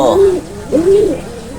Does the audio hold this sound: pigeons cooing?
yes